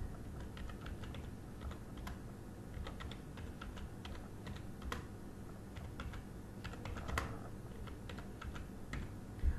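Steady typing on a computer keyboard while writing HTML, a continuous run of close, quiet key clicks with a few slightly louder strokes, no voice.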